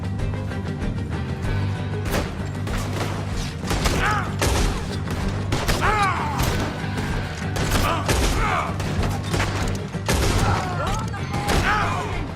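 Bursts of gunfire and heavy thuds fill a Red Dead Redemption 2 shootout, with shots cracking at irregular intervals over a dense mechanical din while a voice shouts intermittently.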